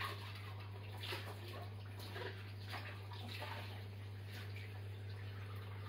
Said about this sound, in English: I'm rinsing it with tap water,